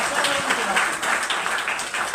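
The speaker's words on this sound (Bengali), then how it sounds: "একবার জোরে হাততালি হোক কারকিউমিন প্লাসের জন্য।" A training audience claps for Curcumin Plus, a broadband patter of many hands in a hall that keeps a steady level for about two seconds, with a voice partly mixed in.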